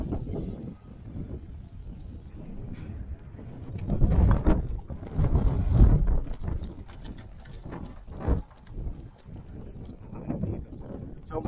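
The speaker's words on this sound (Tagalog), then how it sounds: "Sobrang lakas ng hangin dito, talagang matatangay ka." Strong wind buffets the microphone in heavy, rumbling gusts that swell and fade, with occasional knocks and rattles, in the Vigan and Ilocos region of the Philippines.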